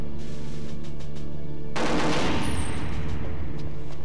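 Gunfire against auto guns in the video game Perfect Dark, where a sudden, loud burst of rapid shots breaks in over a steady game background hum and keeps going.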